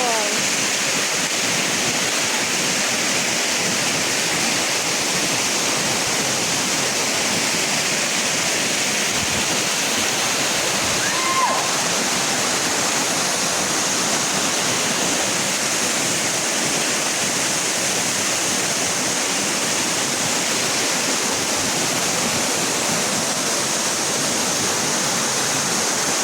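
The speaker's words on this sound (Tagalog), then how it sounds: "It's great to be here at Mandaya Falls." Mandaya Falls pours in a loud, steady roar of falling water that fills the whole scene without letup, a dense broadband rush close by.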